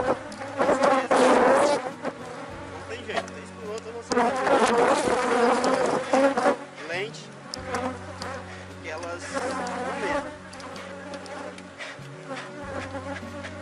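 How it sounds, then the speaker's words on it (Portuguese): Bees from a fairly aggressive swarm near a hive buzz loudly and close around the camera, a dense droning hum that swells and fades as individual insects pass, while a person talks over it. "Vez por outra, gente, vai uma abelha aí na câmera, mas gravar enxame um pouco forte"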